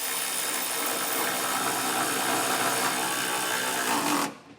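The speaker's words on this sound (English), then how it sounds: "it's going to be a 19mm socket to snug these down" A power tool with a 19mm socket snugs down bolts on an etrailer Class III trailer hitch on a 2025 Hyundai Santa Cruz, a loud continuous whirring that runs steadily for about four seconds and then stops abruptly.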